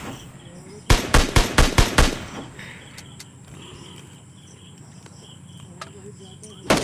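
A rapid burst of about eight gunshots rings out loudly in PUBG Lite, followed by quieter ambient noise and a few faint distant shots.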